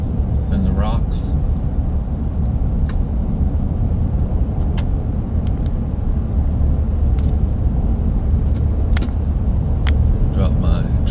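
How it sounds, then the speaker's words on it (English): A pickup truck cruises along a road near Okanogan, Washington, giving a steady low rumble of engine and road noise throughout, with a few faint clicks and rattles on top. "Drop my truck down into fourth gear so I'm not cruising so fast"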